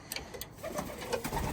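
Pigeons coo softly at night during a late feeding, with low murmuring calls and faint rustles and taps, close and quiet with no talk.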